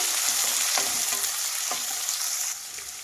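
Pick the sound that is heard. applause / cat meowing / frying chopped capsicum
frying chopped capsicum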